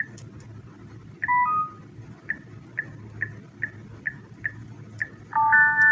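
An EZVIZ DL05 smart lock keypad beeps as a duress password is entered: a steady series of short electronic beeps, one per digit, with a brief melodic chime at the start and at the end, over faint background hum.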